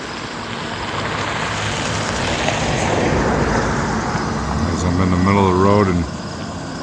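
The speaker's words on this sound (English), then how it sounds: "People are driving by," Traffic rolls past on a roadway at sunset, a steady broad rumble and whoosh of passing vehicles that swells toward the end, with a voice briefly heard over it.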